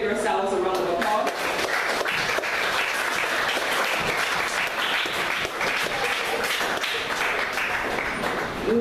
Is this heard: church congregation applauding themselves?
yes